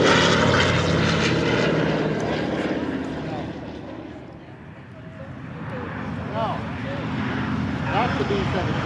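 WWII-era propeller aircraft, including the B-29 Fifi and a B-17, taxiing out at an airshow, a loud continuous engine drone that dips slightly midway and swells again, with voices talking over it.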